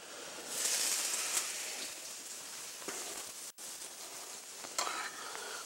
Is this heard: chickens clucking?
no